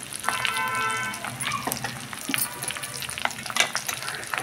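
Gongura leaves with dried fish cooking in oil, a soft, fairly quiet sizzle up close with bursts of spatula scraping and stirring clatter throughout, no voices.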